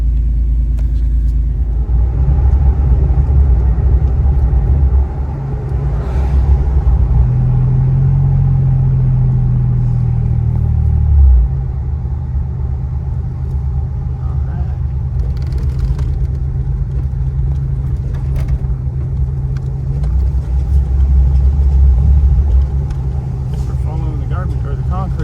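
A 1995 Toyota 4Runner with a 3.0 V6 gives a steady low engine rumble and road drone while driving, continuous throughout with a brief swell midway.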